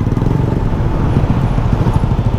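A stock Suzuki Raider 150 carbureted motorcycle engine idles steadily and loudly up close, a continuous throbbing rumble with no talk over it.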